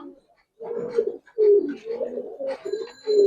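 Giribaz pigeons coo in short, rounded bursts separated by brief pauses, close and clear with no talk.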